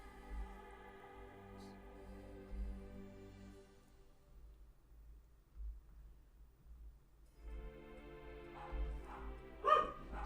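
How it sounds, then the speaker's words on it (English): Dogs bark in short bursts off in the distance, with a few separate yips spread across a quiet stretch and a louder bark near the end. "sorry about the dogs."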